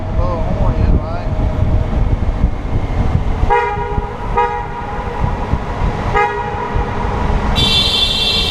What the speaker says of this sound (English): we got another tunnel we can blow a horn in